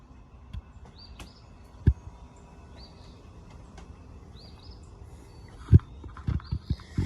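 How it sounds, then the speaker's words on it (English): Faint chirping birdsong repeats in the distance over a quiet outdoor hush, with a few low knocks and thumps near the end. "Y'all hear them birds singing?"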